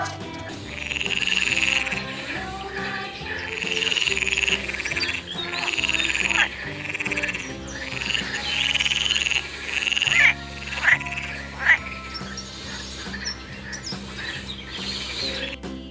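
A frog croaks loudly and repeatedly in a steady pulsing rhythm, close and prominent, with bird chirps and tonal sounds mixed in behind.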